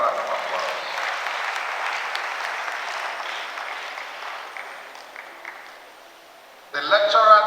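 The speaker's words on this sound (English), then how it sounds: "Please give her another round of applause." An audience at an inaugural lecture claps for the lecturer, steady at first and then fading, before a voice comes in abruptly near the end.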